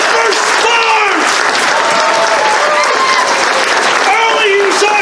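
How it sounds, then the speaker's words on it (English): Audience at a furry convention's mock jury show breaking into loud, continuous applause and cheering, a dense close clatter of clapping lasting the whole five seconds with voices calling out over it. "Give them a round of applause."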